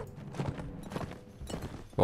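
Horses gallop in the video game Mount and Blade Warband, a quick, soft run of hoofbeats at a moderate distance, with almost no voice over them.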